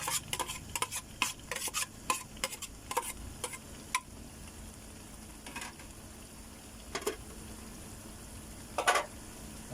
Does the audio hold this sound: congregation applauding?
no